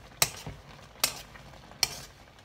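A spoon stirs a pot of Swedish bee mushroom curry, making three sharp, fairly close knocks against the pot at an even pace, with quiet moments in between.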